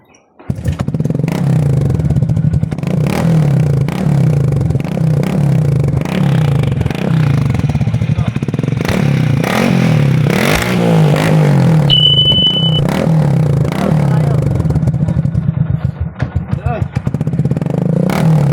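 A Honda XRM 125 motorcycle with an aftermarket exhaust idles loudly with a throaty, uneven exhaust burble, blipping the throttle a few times while people talk over it.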